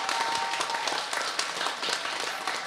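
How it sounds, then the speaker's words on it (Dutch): Audience applause for the organizers at the closing panel of a climate-movement discussion, a dense, steady wash of many hands clapping that fills the whole stretch at an even level. "Dus een heel, heel groot applaus voor deze mensen."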